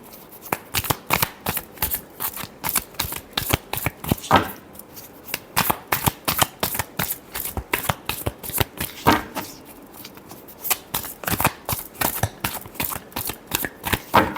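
Tarot cards being shuffled by hand, a rapid, regular run of crisp riffling slaps repeating throughout, close and fairly loud with no talking.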